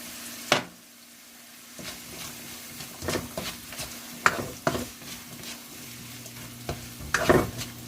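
Egg fried rice being stirred in a frying pan, with a steady sizzle underneath and several louder scraping strokes of the utensil against the pan.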